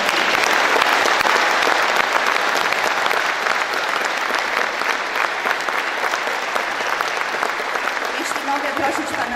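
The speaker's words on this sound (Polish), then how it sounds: "Jeszcze raz brawa." Audience at a concert applauds loudly and steadily throughout, a dense, sustained wash of many hands clapping with no letup.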